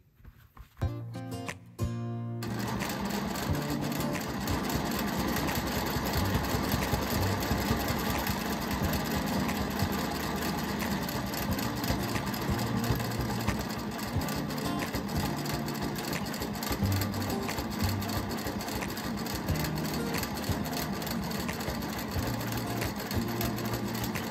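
After a short start-up of a few quick stitches, a sewing machine runs steadily and close by, a fast even mechanical whir as it quilts a mandala pattern.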